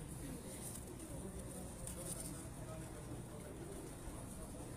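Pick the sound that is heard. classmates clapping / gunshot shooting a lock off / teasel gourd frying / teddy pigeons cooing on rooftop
teddy pigeons cooing on rooftop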